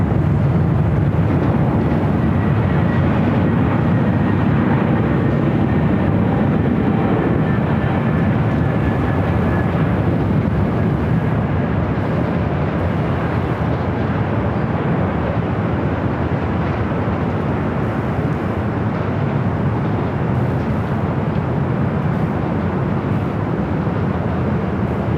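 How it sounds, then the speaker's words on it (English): A United Airbus A321neo jet arrives on runway 24 right at Los Angeles International Airport, a loud, steady broadband engine roar filling the whole stretch with a faint whine sliding slowly downward, and no voices. "Have a United A321neo up next for arrival here on the north side"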